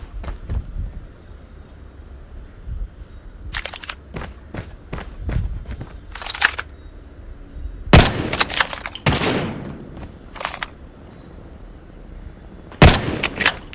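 Gunfire in Call of Duty during a one-on-one match, with rapid bursts of shots and sharp single cracks among running footsteps, loud and close with quieter gaps between.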